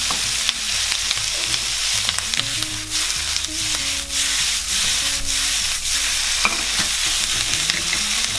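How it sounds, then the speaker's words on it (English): Pork belly stir-fried in a pan for adobo: a steady loud sizzle runs throughout, with repeated scraping strokes of a spatula against the pan, close by and without talk. "I'm going to stir fry this until our pork is slightly golden brown"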